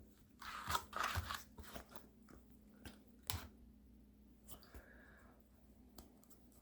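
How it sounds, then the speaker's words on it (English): Ordinary scissors snip through the plastic nozzle of a silicone sealant tube, giving a few close, crisp crunching cuts with short pauses between them. "you're going to cut a hole here with just ordinary scissors"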